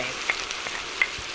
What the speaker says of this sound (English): You see how I was at a sizzle? Now I'm a lower sizzle.